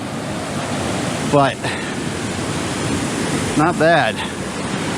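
Water runs steadily in a stream beneath a footbridge on a mountain hiking trail, a broad continuous rushing wash heard close by, with someone briefly speaking twice over it.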